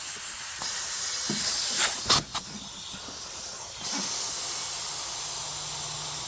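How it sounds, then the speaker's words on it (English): Air compressor hose hissing steadily while inflating a lawn mower tyre, a continuous close hiss broken by a few brief sharper bursts and shifts partway through. "I might have to charge up my compressor again."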